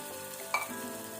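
Carrot pola batter poured into hot ghee in a pan on low flame gives a brief soft sizzle burst near the middle, with a faint frying hiss around it and no talk.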